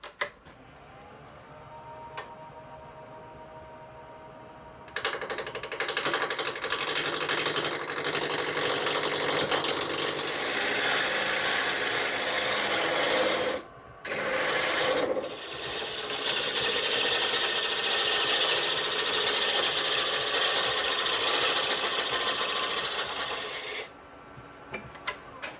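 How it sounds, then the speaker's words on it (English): Oak stock mounted between centers spins on a wood lathe, a steady broadband whir running for about twenty seconds with one brief pause midway, no talking. "So I have it mounted between centers here on the lathe, and I'm just gonna turn this around just to clean it up."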